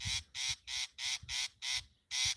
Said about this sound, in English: The bird is trying to scare the mongoose, but the mongoose knows.